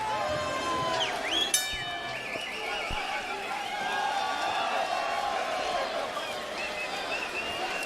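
Large outdoor boxing crowd at the Home Depot Center in Carson, California, a steady roar and murmur with occasional whistles, under a commentator's talk.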